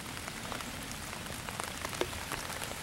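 Steady rain falls across a garden, a dense even patter of drops on leaves and surfaces with a few sharper close drips standing out, fairly quiet and continuous with no voices.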